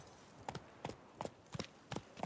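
Hooves of a trotting horse in The Witcher 3 video game beat out six crisp, evenly timed clip-clops, close and distinct against a quiet background.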